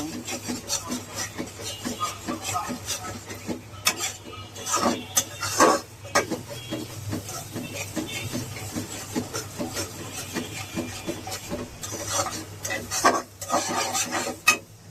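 Prawns are stir-fried in a pan for a bottle gourd curry, with repeated scraping and rubbing stirring strokes over a low steady hum. A few sharper knocks stand out, and nobody speaks.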